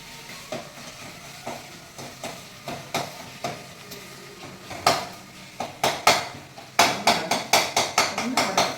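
Tomatoes and onions are stirred and sautéed in a pan for vada curry, a spoon clanking against the metal in a steady, quickening rhythm over a soft frying hiss, close and fairly loud.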